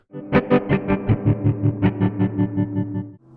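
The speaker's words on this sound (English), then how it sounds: "a tremolo effect by routing the LFO here into the VCA" A distorted guitar chord run through a Moog Grandmother synth, its sine-wave LFO driving the VCA for tremolo, pulses rapidly in volume, about a dozen even throbs over a few seconds, loud and close.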